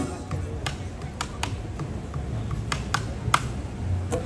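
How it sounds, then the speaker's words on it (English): An ipu heke ole, a hollowed-out wooden board used as a hula implement, is struck in a series of sharp, irregular taps. The hits are close and fairly crisp over a steady background hiss. "Our third hula implement is the ipu heke ole, the hollowed out board, and it sounds like this."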